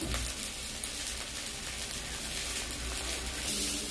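Ground spice paste, turmeric powder and Kashmiri chili powder frying in a pan for Bengali sukto, giving a steady, close hiss and crackle of sizzling oil throughout, with no talking.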